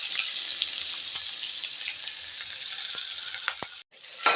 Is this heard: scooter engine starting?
no